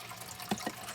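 Water is scooped out of an axolotl tank for a weekly partial change, giving a brief, soft sloshing and trickling with a couple of small splashes.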